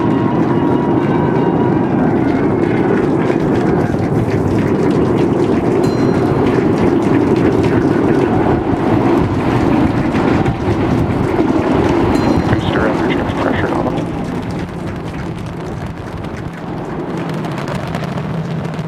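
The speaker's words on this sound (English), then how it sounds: "We are seeing 33 out of 33 Raptor engines ignited." A SpaceX Super Heavy booster with 33 Raptor engines roars after liftoff in a loud, continuous, crackling broadband rumble that eases slightly toward the end.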